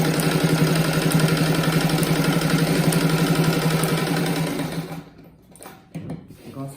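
A sewing machine stitches patchwork rug pieces together with a fast, steady mechanical whir and rapid needle rhythm for several seconds, then stops abruptly, leaving faint handling sounds and a soft voice.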